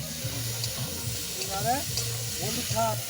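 Ginger garlic paste and spices fry in a pan with a continuous close sizzle and stirring scrapes, while people talk over it in the background.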